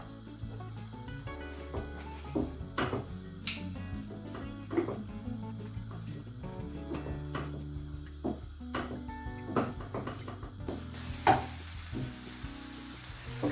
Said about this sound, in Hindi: इसको हम फ्राई करेंगे अनियन को